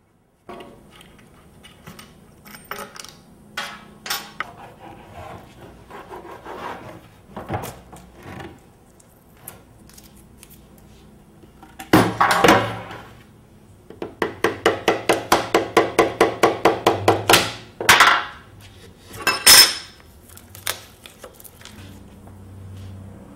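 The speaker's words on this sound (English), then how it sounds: "remove all of the bolts from the mold, then carefully open it up" A bolted mold holding a cured resin stator casting for a DIY axial flux alternator is worked open, with scattered close knocks and clunks, a rapid ratcheting run of clicks, then a few sharp final thuds.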